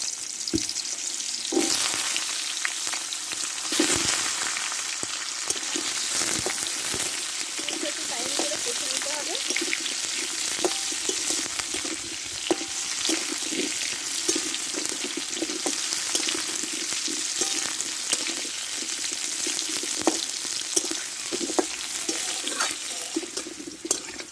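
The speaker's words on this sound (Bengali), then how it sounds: "এবার এই তেলে কুমড়োটাকে কষে নেবো" Pumpkin pieces sauté in hot oil, a continuous close sizzle under frequent spatula stirs and scrapes against the pan, with a faint trickle of water in the background.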